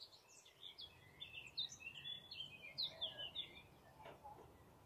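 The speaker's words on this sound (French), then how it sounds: "Le son des oiseaux" Several birds sing and chirp in a quiet outdoor setting, a steady scatter of bright, high tweets and short calls at moderate distance over soft background hum.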